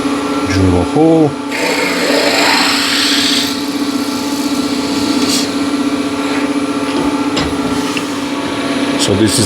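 Spindle gouge cutting maple on a spinning lathe gives a steady, close, scraping hiss over the constant motor hum, with short bursts of talking near the start and end.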